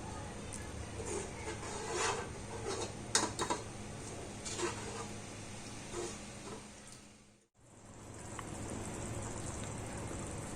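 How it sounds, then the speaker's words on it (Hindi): Broth for a Hyderabadi green kofta curry boiling in a pot after two glasses of water are added, a steady bubbling wash with scattered ticks and pops, close and continuous, briefly dropping out midway before resuming. "शोरबा बॉईल हो रहा है।"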